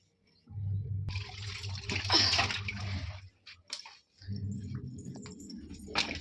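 Water from a faulty household tap gushes in bursts, splashing and draining, with a short pause before the flow resumes, fairly quiet and close.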